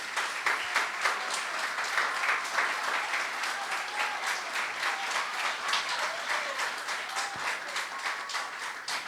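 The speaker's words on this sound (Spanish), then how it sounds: "Un aplauso para ellos." Steady, dense audience applause for young musicians at a Simón Bolívar birth anniversary ceremony in a contemporary art museum, many hands clapping evenly throughout with no voices on top.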